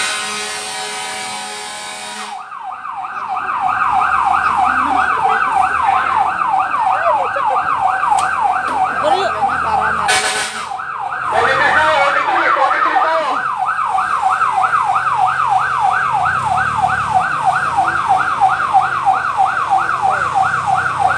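A loud, rapidly warbling fire truck siren wails continuously close by at a fire in Malabon City, Philippines, its fast up-and-down sweep repeating steadily for many seconds.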